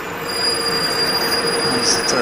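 Train wheels squeal on the rails in Johannesburg in a high, sustained metallic whine over a steady rumble of rolling cars.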